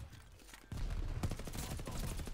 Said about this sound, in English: I've got quite a lot of recoil on this gun